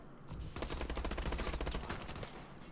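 Fast automatic gunfire in Call of Duty: Advanced Warfare during a 2v2 tournament match, a steady rattling burst of shots lasting a couple of seconds.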